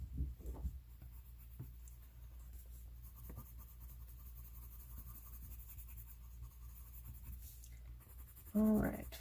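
A colored pencil shades back and forth across paper, a soft, steady scratching close up and quiet, with a brief louder bump near the end.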